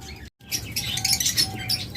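Many small caged birds chirping and twittering together, busy overlapping high tweets close by, with a brief silent gap near the start.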